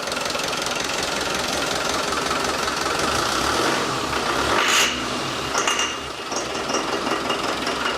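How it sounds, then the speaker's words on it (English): A Land Rover Defender's newly swapped engine runs with a rough, knocking clatter, then revs briefly with a sharper rise around the middle before settling back, loud and close with no voices. "Give it a rev."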